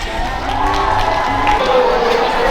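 Loud crowd of children cheering and shouting at a school stage event with a Honda coaching clinic, a dense continuous roar with some clapping mixed in.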